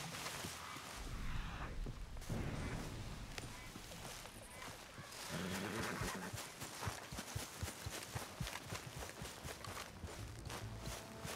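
Horse hooves clip-clop at a walking pace in the Western video game Red Dead Redemption 2, a steady rhythmic patter beneath a busy ambient game soundscape with voices talking.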